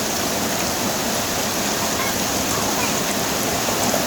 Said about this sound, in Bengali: টিনের চালার এই রিমঝিম বৃষ্টির শব্দ একমাত্র আপনারা গ্রামের বাড়িতেই পাবেন।